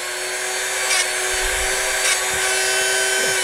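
A grinder steadily sharpening a carbide SDS drill bit, a constant high whine with brief rhythmic grinding swells as each flute touches the wheel, close and loud without talk.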